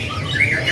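A caged canary at a kiosk in Pramuka bird market gives a brief, bright chirping call under a steady murmur of background noise.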